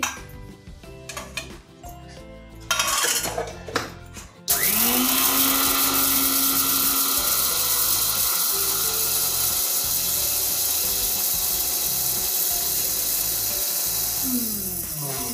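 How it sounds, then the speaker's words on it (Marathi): Clattering kitchen handling gives way to a mixer grinder starting up loudly and whirring steadily close by as it grinds dry spice masala, its motor tone holding for about ten seconds before slowing near the end. "तर मी आता हे मिक्सरमध्ये आधी सुका मसाला काढून घेते।"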